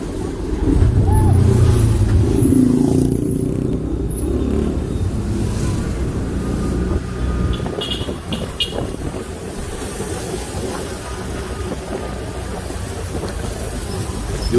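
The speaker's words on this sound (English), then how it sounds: "You'll see these guys on the motorcycles." Steady street traffic with motorcycles rumbles close by in Africa, engines droning and passing vehicles blending into a continuous roar.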